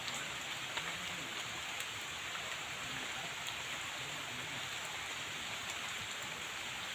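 Heavy rain pouring down in a thunderstorm, a dense, even hiss of drops on surfaces that holds steady from start to finish at a moderate distance, with no voices.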